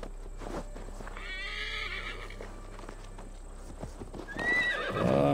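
Hooves clip-clop at a steady gallop in the video game Assassin's Creed Valhalla, then the horse lets out a loud, high whinny near the end, with no talking.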